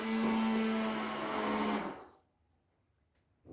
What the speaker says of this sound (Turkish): Bu blenderdən keçireyim. bu səsinə görə